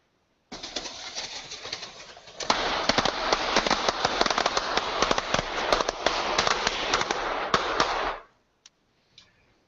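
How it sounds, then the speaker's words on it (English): Firecrackers exploding inside model towers in a rapid, dense string of sharp cracks and pops for several seconds, loud and close, then cutting off with a few scattered pops after. "I put some firecrackers in some towers, set them up, and this is what happened."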